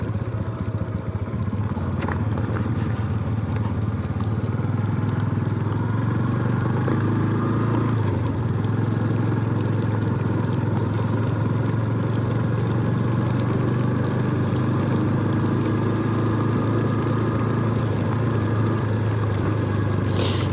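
Honda Super Cub motorcycle ridden slowly along a deep, chunky dirt road in the Ozarks, its small engine droning steadily and close throughout with no talk over it.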